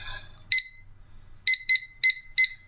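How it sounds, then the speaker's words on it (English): A kitchen timer alarm sounds during cake baking with five sharp, loud electronic beeps: one single beep, a pause, then four evenly spaced beeps close to the mic with no talk. "I set a timer for 20 minutes"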